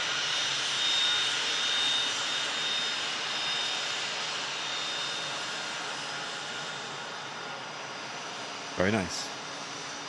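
A small aircraft comparable in size to a Pilatus PC-12 drones steadily at a distance, its engine a broad, even roar that slowly fades, while a voice briefly speaks near the end.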